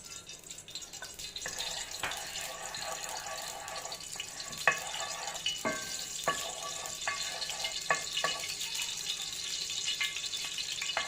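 Bread frying in hot ghee, a steady soft hiss running throughout with scattered sharper pops and crackles, fairly quiet and with no voices.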